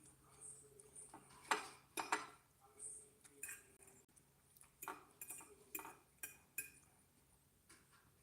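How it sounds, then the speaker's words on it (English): Cutlery clinks and scrapes against a plate during a meal of Jamaican oxtail with rice and peas, soft irregular taps near the microphone with no talking. "I'm eating the vegetable now"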